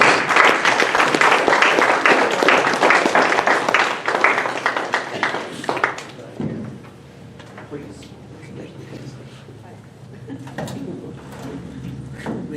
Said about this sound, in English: If you'll please give him a strong round of applause.